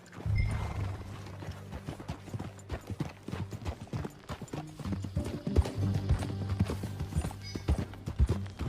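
Horse hooves clip-clopping in Red Dead Redemption 2, a quick irregular run of clear close hoofbeats over a low rumble, with a brief whinny-like note near the start.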